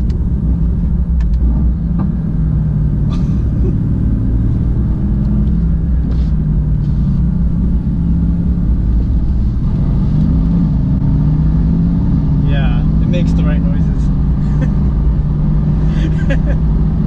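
A loud, deep engine rumble from a Mercedes-AMG GT S sports car runs steadily throughout, with shifting tone as the motor works under load.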